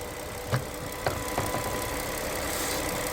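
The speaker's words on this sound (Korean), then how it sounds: "현재 시동이 걸려 있는데 엔진 소리 정말 조용합니다." A Hyundai Grandeur IG LPG car engine idling quietly and evenly, a soft low rumble with a few light ticks near the start.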